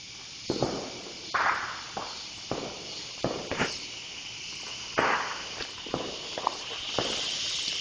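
The last of a batch of backyard fireworks going off: a string of sharp pops and crackling bursts at irregular intervals, moderately loud, with quieter hiss between them.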